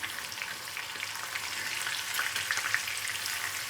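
Fish fries in hot oil in a pan, already turned once, giving a continuous bright, crackling sizzle that stays even and close, fairly soft in level, with no one speaking.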